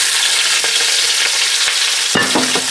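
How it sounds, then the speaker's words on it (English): Pork sausages browning in pork fat, a loud continuous sizzle and crackle of frying, with a few clunks of the pieces being moved in the pan, and no talking. "I got some nice pork fat in here. And we're just gonna brown these up a bit."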